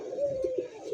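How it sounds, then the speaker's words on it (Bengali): A red indigo Golla pigeon, an old native breed, gives a short, soft cooing call, close and clear with a brief throaty warble, over quiet background. "রেড ইন্ডিগো দেশি পুরান জাতের গোল্লা কবুতর।"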